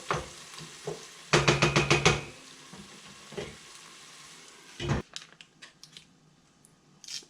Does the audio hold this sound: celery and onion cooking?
yes